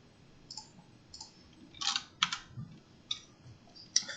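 Computer keyboard keys are pressed for the Ctrl+U shortcut, a scattering of light plastic clicks, some single and some in quick pairs, close and soft against a quiet room hum.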